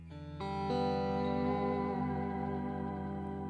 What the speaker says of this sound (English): This is one of my new pedals. This does octave reverb.